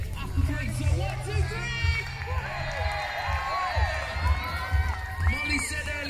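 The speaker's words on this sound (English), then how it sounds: "I want you to give her a massive cheer." A crowd on a park at a Commonwealth baton relay in Tipton raises a loud, sustained cheer with children shouting and scattered clapping, voices layered over a steady low rumble.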